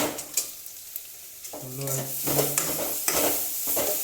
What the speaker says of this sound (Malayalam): ഉള്ളി ചെറുതായിട്ടൊന്ന് വരണ്ട് വന്നിട്ടുണ്ട്